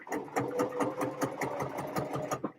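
A sewing machine runs steadily through a short burst of stitching, its rapid rhythmic needle clatter and motor whir close and clear with no talk.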